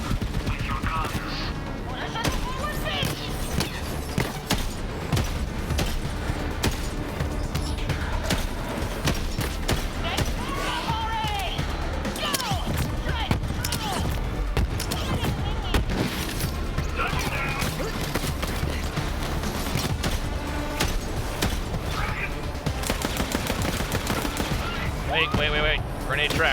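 Guns blaze in the video game Borderlands 3, rapid continuous gunfire and bursts of automatic fire mixed with mechanical clatter and crashes, dense and loud throughout with voices talking in the mix.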